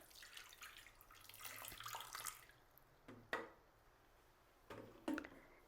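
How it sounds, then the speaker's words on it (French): Water poured into the bowl of a Compact Cook Elite food processor along with diced unsalted butter, making a faint splashing trickle that runs a couple of seconds, followed by a few soft knocks and splashes. "Versons de l'eau."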